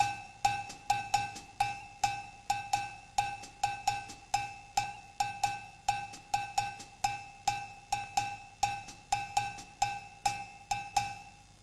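A bright metallic cowbell strikes a steady, repeating Afro-Cuban 6/8 bell pattern, each hit sharp and ringing, played alone at a moderate tempo.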